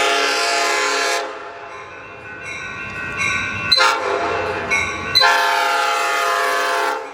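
Amtrak 8300 series cab car 8306 sounding its P5 horn, a loud multi-chime blast held for about a second, then a series of shorter and longer blasts with the train rumbling underneath.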